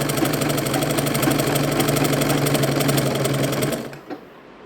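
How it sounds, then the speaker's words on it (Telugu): Sewing machine running steadily while stitching the second seam of a lined blouse, a fast, even mechanical whir with rhythmic clatter that stops abruptly near the end, followed by a single faint click. "ఈ విధంగా రెండవ కుట్టు కూడా నేను పూర్తి చేస్తున్నాను ఇప్పుడు మిషన్ మీద"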